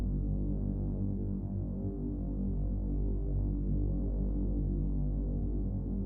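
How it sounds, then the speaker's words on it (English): Dark, ominous synth pad drone, a steady low throbbing hum with dense low harmonics that holds evenly and alone throughout, with no voices. "adding a slightly ominous or disturbing pad sound could emphasize that our character is indeed literally"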